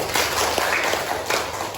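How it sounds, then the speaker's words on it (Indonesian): A classroom of schoolchildren applauds a classmate, a dense, steady patter of many small hands clapping close by for under two seconds with no pause. "Kasih tepuk tangan buat temannya."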